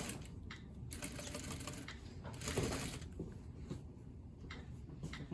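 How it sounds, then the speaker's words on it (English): Sewing machine stitching a quarter inch around the slit of a tailored sleeve placket on printed fabric, a steady mechanical whirr in close bursts broken by short pauses. "you're going to stitch 1/4 inch around the slit"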